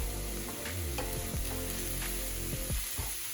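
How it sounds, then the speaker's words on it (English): Onions and mushrooms fry in a pan for vegan keto stuffed peppers, a soft steady sizzle broken by repeated scraping stirs of a utensil against the pan, close and fairly quiet. "I'm going to stir until it's fully wilted"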